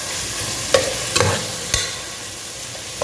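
Curry leaves dropped into hot oil crackle and sizzle for a curry being made with bottle gourd and mutton, giving a steady frying hiss broken by a few sharp pops, close up and with no talking.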